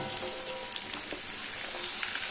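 Pieces of bottle gourd hit hot spice paste in a pan and sizzle, a steady close frying hiss with small crackles and a few stirring scrapes.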